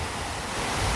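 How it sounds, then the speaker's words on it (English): Water at a lake outdoors gives a steady, even rush, like soft surf or wind-blown ripples. It fills the moment without any voices. "I love the sound of that water."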